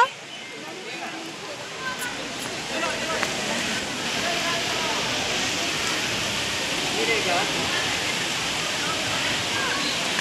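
Heavy rain pours down steadily outdoors during a pagoda visit, a dense continuous hiss that fills the scene with no breaks, close and fairly loud.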